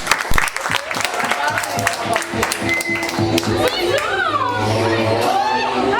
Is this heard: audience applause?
yes